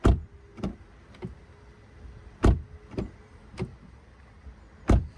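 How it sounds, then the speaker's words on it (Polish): Doors of a 2023 Cupra Leon ST 1.5 eTSI mild-hybrid estate shutting with solid thuds, six close-miked closes spaced irregularly with quiet gaps between, no talk. "Posłuchajmy, jak zamykają się drzwi."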